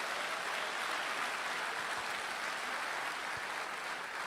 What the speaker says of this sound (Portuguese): É isso aí, pode aplaudir.